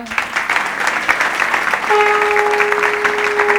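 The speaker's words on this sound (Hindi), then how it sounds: "एक बार युवान के लिए तालियां।" Dense applause from a crowd at a satsang gathering rolls on throughout, and partway through a sustained conch shell tone sounds over the clapping.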